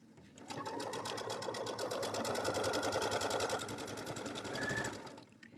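Sewing machine running a twin needle to stitch corded pin tucks, a fast steady mechanical whir with rapid needle ticking that starts, runs continuously for about four seconds and stops, close and clear.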